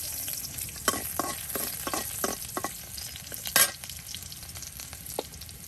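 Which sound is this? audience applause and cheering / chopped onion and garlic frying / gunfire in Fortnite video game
chopped onion and garlic frying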